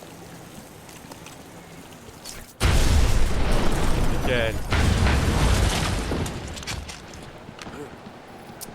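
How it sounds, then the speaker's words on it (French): Targeted explosion blasting through a fragile wall in Batman: Arkham Asylum, a sudden loud boom followed by a rumbling, crumbling burst that swells again and slowly fades, with a voice briefly heard beforehand. "Vous pouvez détruire les murs fragiles à l'aide d'une explosion ciblée."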